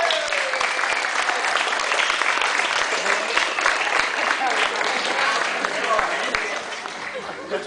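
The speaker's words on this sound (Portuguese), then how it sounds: "Receba os aplausos da nossa plateia." A studio audience on a Brazilian TV show applauds with steady, dense clapping that fills the room and tapers slightly at the end, while a host talks over it.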